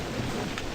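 Steady rain hisses through a brief stretch of a nighttime video game scene, a dense even wash of noise with no voices.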